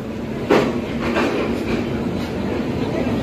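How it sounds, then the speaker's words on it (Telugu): An Antyodaya Express hauled by a WAP-7 electric locomotive rolls into a station with a continuous low rumble and faint rhythmic rail clatter, a brief louder thump near the start; no clear speech. "VAP 7 లోకోమోటివ్ వస్తుంది మన ట్రైన్."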